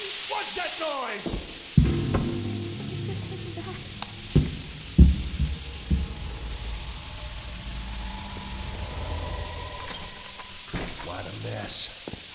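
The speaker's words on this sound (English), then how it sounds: "The pipe burst." Continuous hissing of escaping pressure from a burst pipe in the video game Metal Horror Escape, with scattered clanks and thuds over it and a brief voice near the start.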